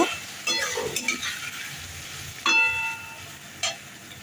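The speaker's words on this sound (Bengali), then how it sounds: "সেই ডালটাকে আমি দিয়ে দিলাম। ভালো করে মশলার সাথে কষিয়ে নেব।" Mung and masoor dal being stir-fried with spices in a pan, with intermittent scraping and clinking strokes of a utensil over a soft sizzle, a few sharper metallic taps standing out.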